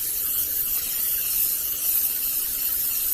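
Butter-flavored cooking spray hisses steadily into a 9 by 13 baking dish, one continuous close spray lasting a few seconds with no break.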